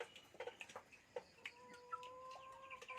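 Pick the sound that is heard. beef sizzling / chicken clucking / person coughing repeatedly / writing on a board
chicken clucking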